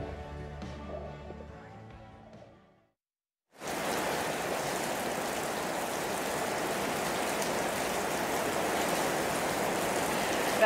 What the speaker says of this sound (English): Can you hear the rain belting down here in far north Queensland?